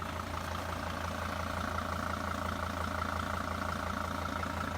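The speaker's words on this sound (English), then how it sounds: "listen to that engine purr" The diesel engine of a 2007 Winnebago View 23H motorhome idles with a steady low rumble and faint rhythmic clatter, constant and unchanging, heard from a moderate distance with no voices.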